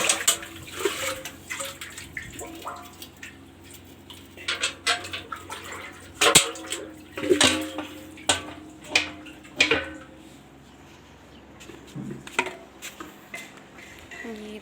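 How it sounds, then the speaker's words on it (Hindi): Water is poured and splashed for a buffalo calf to drink from a container, with irregular sloshing bursts, clanks and knocks of a vessel, close and fairly loud, continuing in uneven spurts. "अब मैं बाछी को पिलाने लगी हूँ पानी"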